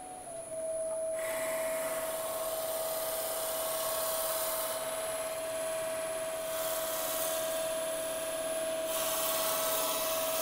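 Drill boring a 9.5 mm hole 10 mm deep into wood for a turned wooden ballpoint pen, a steady high-pitched whine held close and constant, with the cutting noise swelling in a few stretches.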